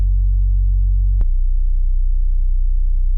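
A deep, smooth stutter house synth bass holding one low sustained note, then shifting to another low note with a soft click at the change.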